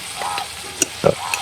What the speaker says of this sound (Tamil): வெண்டிக்காய் பொரியல் பதத்துக்கு வருது பார்த்தீங்களோ